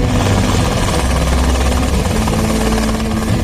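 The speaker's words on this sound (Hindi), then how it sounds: "भारत के पास आसमान में उड़ने वाला पहला स्वदेशी लड़ाकू हेलीकॉप्टर भी है।" An Indian Light Combat Helicopter flies overhead with a loud, continuous rotor and engine roar, steady and close, with no pauses or other sounds throughout.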